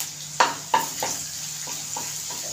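Ginger garlic paste sautés with browned onions in a pan for a dried green peas curry, with a soft continuous sizzle punctuated by several scraping stirs, two of them sharp and close.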